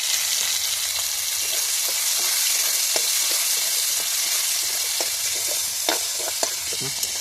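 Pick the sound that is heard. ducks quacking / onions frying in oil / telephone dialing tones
onions frying in oil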